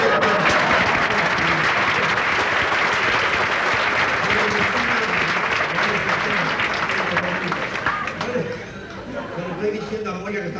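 Audience in a Buenos Aires revue theatre, Teatro Tabarís, breaks into warm, sustained applause, loud and dense for most of the stretch before thinning out, with voices and laughter under it.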